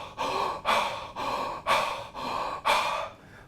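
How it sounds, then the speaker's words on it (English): A woman breathes heavily and rhythmically during a bioenergetics session, with six loud, forceful breath cycles in steady succession, each a harsh airy rush with no talking. "she had me begin with a lot of heavy breathing"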